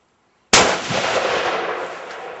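A single sharp gunshot at an outdoor shooting range, aimed at a bottle target, cracks loudly and close, then rings out in a long decaying echo with no voices.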